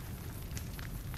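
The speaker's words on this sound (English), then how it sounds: "campfire." A campfire in Fallout New Vegas crackles softly and steadily with a low rumbling roar and scattered small pops, faint and continuous.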